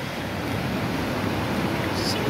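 Rough sea waves wash onto a beach as a continuous loud surf roar mixed with wind buffeting the microphone.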